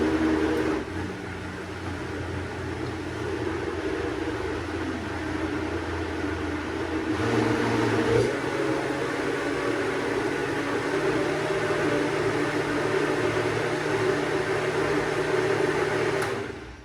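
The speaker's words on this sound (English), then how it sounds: "as I use my blender" A blender whirs continuously for a long stretch pureeing cauliflower soup, a dense, steady mechanical roar that shifts slightly in pitch as it churns, with no talking.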